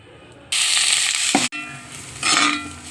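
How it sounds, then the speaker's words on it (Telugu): Onions sizzle and fry in a small amount of oil in a pan for a meal maker masala curry. A loud, steady hiss starts suddenly, breaks briefly, then swells again under stirring, with no talking. "ఉల్లిపాయలు వేగుతున్నాయి కదా, కొంచెం ఆయిల్ తక్కువే వేసాను."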